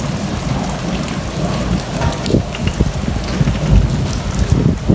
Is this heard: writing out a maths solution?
no